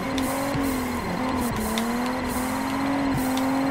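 Race car engine with steady droning and shifting pitch, plus intermittent tire sliding, in the Juiced 2 racing video game; continuous and fairly loud with no talk.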